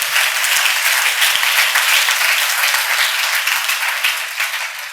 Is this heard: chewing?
no